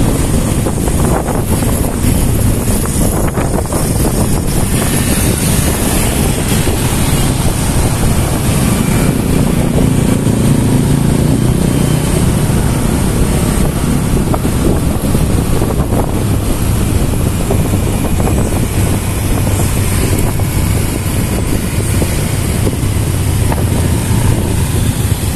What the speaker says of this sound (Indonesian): suara kebisingan kotanya pun terasa di sini